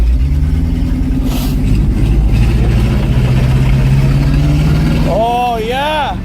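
Ford F-600 truck engine idling steadily after a -22F cold start, a low rumbling drone throughout, with someone talking over it near the end.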